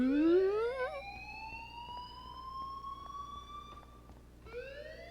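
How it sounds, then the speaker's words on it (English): Fire alarm in Life is Strange Remastered at Blackwell: a wailing siren-like tone that sweeps upward, holds a long rising note, then starts climbing again, steady and fairly loud with no talk over it. "please turn off that alarm since that's your job. What a weird fire alarm."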